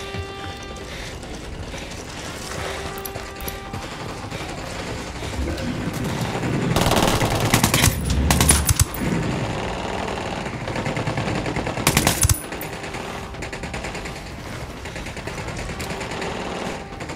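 Gunfire in the video game Ghost Recon Wildlands: rapid machine-gun bursts crackle over a busy game soundscape, with the loudest volleys arriving around seven to nine seconds and again near twelve seconds.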